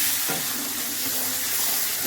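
Turmeric and salt sizzle in a pan with tomatoes for a silver carp curry, a steady hissing fry with a soft stir scrape, brief and close.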